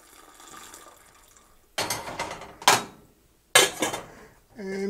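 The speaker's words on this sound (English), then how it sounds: "let's go ahead and add our tannin substitute to the mix" Tannin substitute being added to a strawberry rhubarb wine mixture in a pot, heard as a few sharp clinks of metal and utensil against the pot with brief splashy rattles, fairly close in a quiet kitchen.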